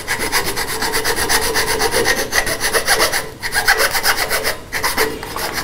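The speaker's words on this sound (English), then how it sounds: "So I'll just use a little file." Steady back-and-forth rasping of a small file against wood, in fast even strokes, loud and close with no talking.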